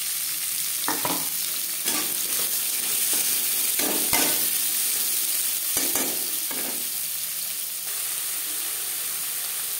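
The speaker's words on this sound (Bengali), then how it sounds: "3 চামচ সরষের তেল গরম করে নিয়েছি। এবার দিয়ে দেব পেঁয়াজ কুচি।" Chopped onion frying in hot mustard oil for a mutton liver curry, a continuous close sizzle broken by several sharp scraping stirs of a spatula, with no voices.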